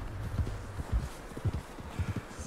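A horse walks along in Red Dead Redemption 2, its hooves thudding in a steady, even clip-clop rhythm, close and fairly soft, with faint wind beneath.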